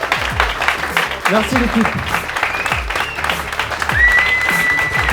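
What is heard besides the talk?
audience applauding the team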